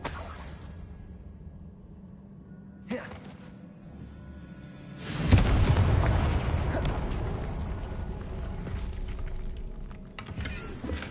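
A Confringo blasting spell in the Hogwarts Legacy video game erupts into a loud, deep boom of fiery explosion at mid-clip, with debris rumbling on afterward; a short crack sounds earlier over a quiet game background.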